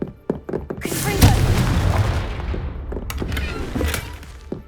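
Confringo, an explosive spell in the Hogwarts Legacy video game, goes off as a string of close, heavy booms, the largest blast in the middle, with smaller thumps and crackles before and after.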